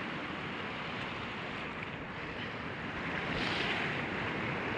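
A very large river flowing: a steady, dense, broadband rush of water without pauses, moderately loud and constant throughout, with no voices.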